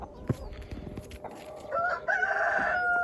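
Free-range chickens cluck and scratch nearby in snow, followed by a rooster crowing loudly, with outdoor background noise.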